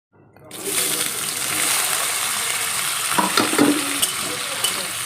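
Chili and potato being fried and stirred in a pan for a tiffin snack: a steady loud sizzle with scraping spoon clatters, and a voice talking over it.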